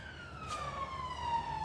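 A single siren tone sweeps slowly downward as an emergency vehicle passes outside, moderately distant, over low background hum.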